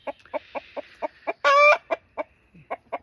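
An Australorp rooster clucks in a steady series of short, close calls, broken by one longer, louder squawk in the middle, with faint background noise.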